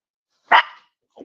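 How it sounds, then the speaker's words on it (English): A single sharp dog bark close by, followed by a brief softer yip, with silence around them. "There's the dog barking as usual."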